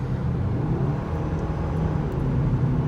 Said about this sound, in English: It does run actually rev really nicely, pretty responsive to your throttle input